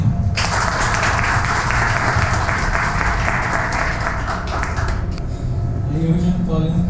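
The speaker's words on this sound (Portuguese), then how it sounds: "Gostaria que recebesse uma salva de palmas o professor Dr." An audience gives a long, dense round of applause for a speaker, a professor introduced at an agricultural fruit-growing statistics lecture, loud and sustained for about five seconds before fading, with voices talking underneath and afterward.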